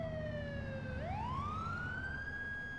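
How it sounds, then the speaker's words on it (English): Ambulance siren from GTA IV sweeping in a steady wail, dipping low then rising again with a pitch change as it passes, loud and continuous over low engine and traffic rumble, no talk. "That ambulance might be going there too."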